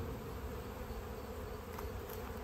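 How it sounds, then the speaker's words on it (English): Honey bees swarm around leftover burr comb during an October hive inspection, making a continuous close, dense buzzing drone that holds steady throughout. "those bees are going crazy for it"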